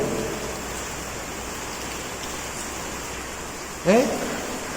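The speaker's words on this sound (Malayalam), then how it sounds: "ഇതിപ്പോ നല്ല മഴയുമുണ്ട്." Steady rain falls outdoors at night, a dense even hiss around the listener, with a brief voice near the end.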